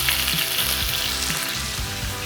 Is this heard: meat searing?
yes